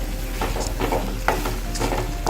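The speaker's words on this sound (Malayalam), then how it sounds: "ഇതിലേക്ക് നമ്മൾ ഫ്രൈ ചെയ്ത് വെച്ച ചെമ്മീൻ ചേർത്ത് ഇളക്കി യോജിപ്പിക്കണം" Fried prawns stirred into the roast masala of a Kerala chemmeen roast, a steady sizzle broken by regular scraping strokes of a spoon across the pan, close and moderately loud with no voices.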